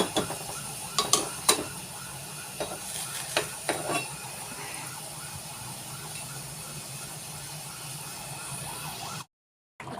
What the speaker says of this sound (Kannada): ಇದು ಚೆನ್ನಾಗಿ ಕುದೀತಾ ಇದೆ